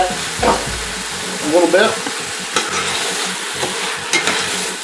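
Ground meat for chili browns in a pan while being stirred, with a steady sizzle and repeated scraping and shuffling of a spatula, close and loud, with a voice speaking briefly.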